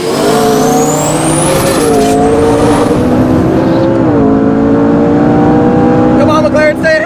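A Toyota Supra, including a Mark III, and a McLaren launch from a standing start and race. The loud, close engines roar and rev hard, their pitch climbing and dropping with each gear shift.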